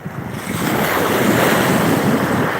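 Ocean waves and surf roll in beside the sea under strong wind, a loud, broad roar that swells after the first half second and then holds steady, buffeting the microphone, with no talking.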